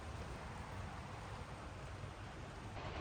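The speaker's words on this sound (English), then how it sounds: "Still raining." Steady rain falling, a dense even hiss with soft patter throughout, no voices.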